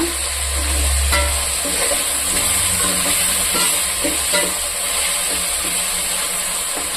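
Green chillies fry in a pan of oil for homemade hotel-style parotta salna, giving a steady, loud sizzle with stirring scrapes throughout and a low rumble early on.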